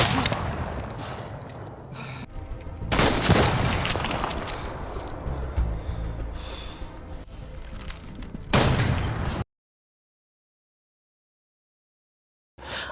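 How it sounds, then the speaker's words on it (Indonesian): A German sniper's rifle fire in a First World War bridge scene from the film 1917 comes as loud, dense bursts over a sustained rumbling din, ending in sudden silence. "sniper Jerman pun menembaki Scofield yang ada di jembatan"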